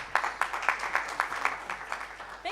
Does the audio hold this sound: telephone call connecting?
no